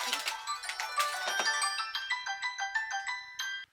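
A phone ringtone plays while the handset is wrapped in aluminum foil, a bright repeating melodic tone pattern that keeps cycling for several seconds with no talk over it.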